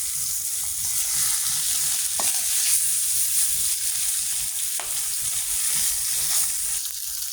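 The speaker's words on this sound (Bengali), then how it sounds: "মাছটি এভাবে ভেজে নেবেন।" Fish sizzles and spits steadily in hot oil in a pan for a gourd and fish curry, a continuous loud frying hiss with a few sharp pops and stirring clinks, no talk.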